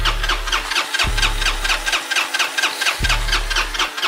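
A Honda Helix scooter engine turns over with rhythmic starter cranking, repeated in short bursts, then catches and runs. The mechanical noise is close and loud, with no talk.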